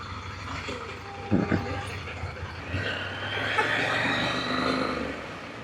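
Street traffic in Kotor, Montenegro, with a truck rumbling nearby and a brief beeping, heard from a motorcycle trip as people talk and laugh over the steady engine noise.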